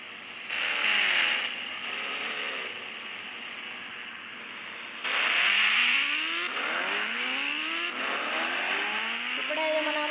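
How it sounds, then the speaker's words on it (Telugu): A Ghost Rider motorbike revs hard on a ramp, its engine pitch sweeping up and down in repeated surges, loud and close, with a sharper burst of acceleration midway. "ఇప్పుడైతే మన గోస్ట్ రైడర్ బైక్ గాయస్."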